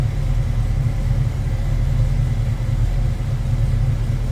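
A 1967 Ford Mustang Coupe engine runs at a steady idle, a loud, close, deep rumble with an even low throb and no talking over it.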